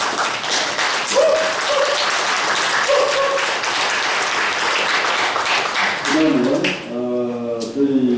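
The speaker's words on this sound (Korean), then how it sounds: "박수로서 받아." Dense audience applause at a Korean-American association founding ceremony greets honorary advisers standing up, loud and steady, with a voice speaking over the clapping as it fades toward the end.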